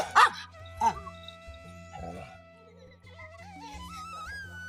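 Small puppies let out a few high, sharp yips and whimpers close by, over a steady hum with a rising whistle-like tone.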